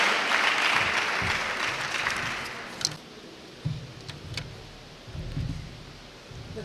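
An audience claps to welcome a head girl at a regional school event in Ashanti, a loud dense burst for about three seconds that fades into scattered claps and room noise.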